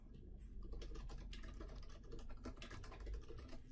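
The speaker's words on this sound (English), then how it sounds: "we sign it by typing in our full name" Someone types a full name on a computer keyboard, a quiet, steady run of rapid key clicks lasting several seconds over a low background hum, with no talking.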